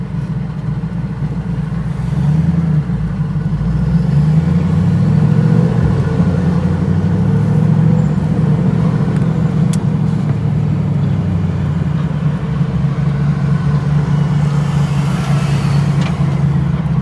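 TVR Chimaera engine rumbling steadily from inside the car as it cruises along a road, a deep, loud, continuous drone with mild rises in revs and road noise throughout.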